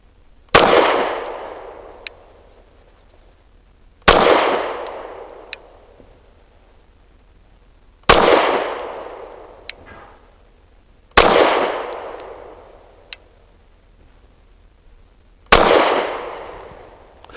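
A BUL Armory Ultralight PRO pistol fires five rounds of PMC Bronze 124 grain, each a sharp loud crack with a ringing decay, spaced several seconds apart with faint metallic clinks between.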